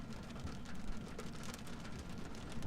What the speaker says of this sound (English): It's just you know, a steady, nice rain, really.